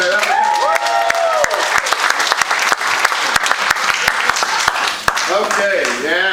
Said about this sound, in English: Have a round of applause there.